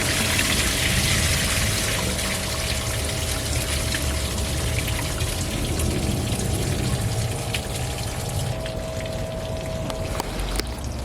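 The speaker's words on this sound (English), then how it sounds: "I'm gonna open the radiator up and dump all of this water out" Water gushing and splashing steadily as it drains from a Chevrolet Suburban's opened radiator onto the ground, a continuous close pour with some trickling that eases slightly near the end.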